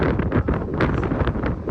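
Strong mountain wind gusts buffet the microphone on Mt. Pulag, a loud rumbling roar that surges and fades in uneven bursts.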